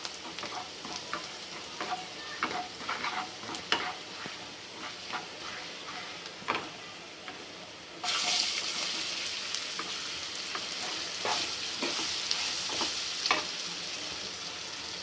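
Asafoetida and finely chopped garlic fry in a pan with a continuous soft sizzle and scattered stirring clicks. The hiss grows louder and denser midway through.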